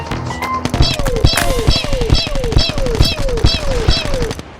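Video-game gunfire, a steady burst of about eight evenly spaced shots with chirping ricochet-like tones over a busy game background, close and loud, with a voice briefly present at the start.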